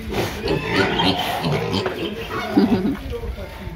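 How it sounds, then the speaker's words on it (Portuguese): A farm pig grunts low and close in short bursts on a rural farmstead, mixed in with adults and someone talking over it. "Agora aqui é porco."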